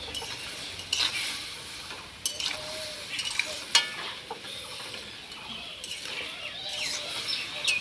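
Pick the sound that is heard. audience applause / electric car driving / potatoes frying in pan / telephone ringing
potatoes frying in pan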